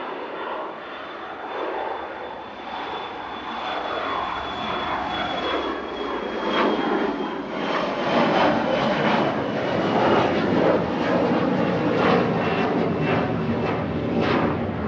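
An Embraer 175 jet airliner heading to Amsterdam rolls down the runway at Manchester Airport, its engines swelling from a rumbling hum into a loud, sustained jet roar with a faint whine, no voices.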